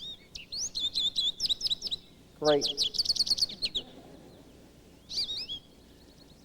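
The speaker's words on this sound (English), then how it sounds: "we can hear the Washington state bird" Recorded song of the Washington state bird played back on a computer, a few bright rapid chirping phrases with brief pauses, clear and close, with a short spoken word near the end.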